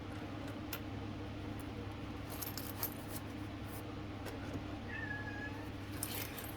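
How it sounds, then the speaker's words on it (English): A pet cat meows indoors, a faint, brief call near the end over a steady low hum and some light handling clatter. "So if you can hear the meowing, guys, that's my star baby, our kitty cat."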